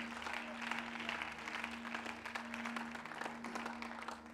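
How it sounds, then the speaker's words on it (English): Congregation clapping hands in praise at a Thanksgiving church service, continuous steady applause from a large crowd, heard somewhat distant and soft over a faint background hum. "Why don't we thank the Lord with a hand clap of praise?"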